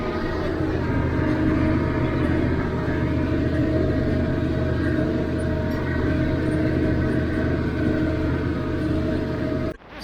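Massey Ferguson 1105 tractor cutting hay with a Krone 2801cv mower in first gear, high range, a steady loud diesel drone with mower rumble running unbroken for about ten seconds before a brief dip at the end.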